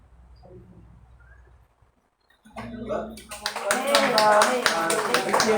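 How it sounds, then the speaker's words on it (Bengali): Quiet talk fades into a brief hush, then an audience at a prayer seminar breaks into clapping to welcome a speaker. The clapping swells into loud, dense applause that carries on to the end. "আমরা হাততালি দিয়ে স্বাগত জানাই"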